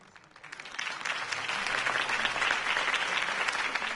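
Applause from a crowd in a video game, swelling quickly out of quiet, then holding as dense, steady clapping, loud and sustained to the end.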